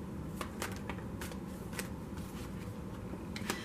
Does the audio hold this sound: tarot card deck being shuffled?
yes